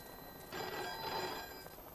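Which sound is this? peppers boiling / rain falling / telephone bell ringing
telephone bell ringing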